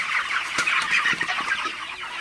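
Broiler chickens cluck and chatter at night in a steady, dense flock murmur, with several sharper calls standing out over the continuous background.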